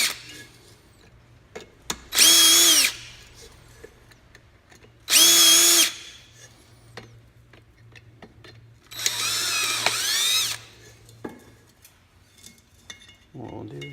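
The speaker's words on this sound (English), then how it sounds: "And all we're doing is drilling just the button off the back." Power drill boring the button off the back of a brake part on a Ferret, three loud whining bursts of a couple of seconds each, separated by quieter clinks and handling of tools and metal.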